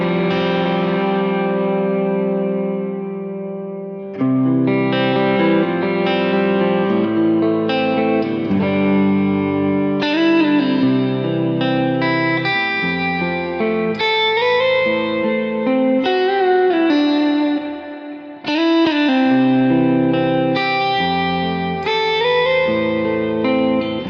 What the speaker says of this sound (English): So this is the neck pickup in isolation